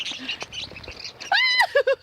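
Small birds, close by outdoors, chirp and peep in quick high calls, with a run of bright harmonic tweets near the end and handling noise in between.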